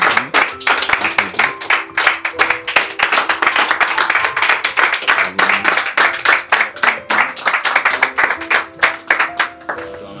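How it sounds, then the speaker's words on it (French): Crowd clapping at an event honouring actors and staff, heard as sharp, distinct hand claps in a rough rhythm with tonal music or voices running underneath, moderately close and lively throughout. "applaudir"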